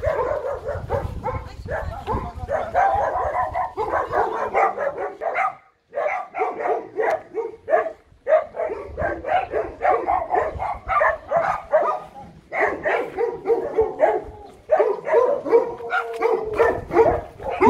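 A small dog barks repeatedly during a veterinary patrol visit, sharp yappy barks coming in rapid clusters with brief pauses, loud and close, mixed with whimpers and occasional voices.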